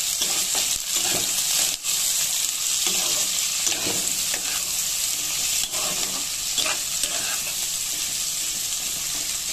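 Eggplant pieces fry in hot oil with salt and turmeric, a loud, dense, continuous sizzle close by with a few soft stirring scrapes now and then.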